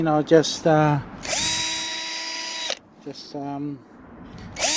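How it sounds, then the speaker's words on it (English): A power drill widening holes whirs in a steady high-pitched whine for about a second and a half, with people talking briefly before and after it. "And I use my drill"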